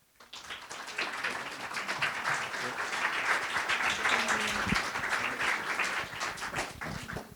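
Audience applause welcoming guests at a university event, a dense round of clapping that swells quickly, holds steady for several seconds, then tapers slightly at the end.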